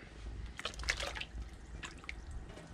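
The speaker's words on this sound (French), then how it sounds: "on le met dans l'eau chaude et il va blanchir" Boudin blanc sausages slip into a pot of hot water, giving a few soft watery splashes and drips in two small bursts, quiet and close, with no speech.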